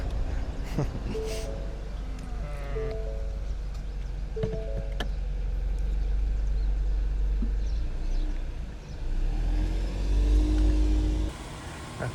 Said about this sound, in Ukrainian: Приїхали Мостангом до Саші